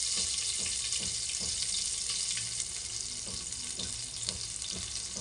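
Garlic sizzles in hot oil for a masoor dal tempering, a dense hissing fry close up with faint repeated stirring taps through it.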